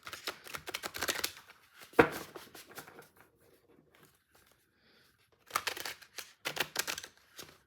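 A big tarot card deck being shuffled, with papery riffling bursts in two clusters separated by a quiet pause, close to the microphone and fairly soft; no talking.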